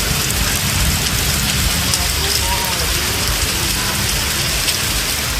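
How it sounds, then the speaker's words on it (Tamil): Rain falls steadily at night over Chennai, a dense continuous hiss of drops hitting surfaces, close and even throughout with no breaks. "புறநகர் பகுதிகளிலும் பரவலாக மழை பொழிந்தது."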